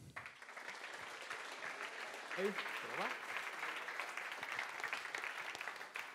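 Audience applause at a quantum computing tech meetup welcomes the evening's second speaker, a moderate clatter of many hands that swells briefly midway. A voice speaks briefly over it.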